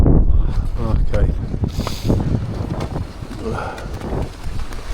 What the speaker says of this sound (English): I think that wind's getting up a bit